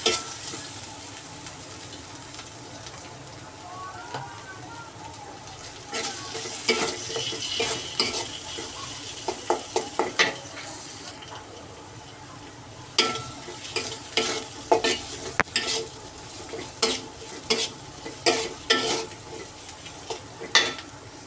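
Onions sizzle steadily in a pan while a spatula stirs and scrapes in repeated bursts, growing busier and louder partway through.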